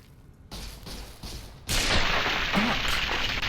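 Gunfire in Fallout: New Vegas: a few soft, muffled shots come first, then a sudden loud burst of fire breaks in and rings on as a dense, sustained roar.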